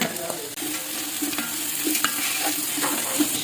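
Onions, green chilli and fried fish sauté in coconut oil for a seer fish biryani. There is a continuous sizzle with soft, regular stirring scrapes close by, and no talking.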